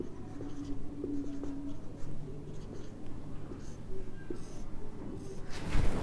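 Pen on paper while an accounting teacher writes an entry, giving soft, continuous scratching strokes in short bursts at close range, with low background hum and no speech.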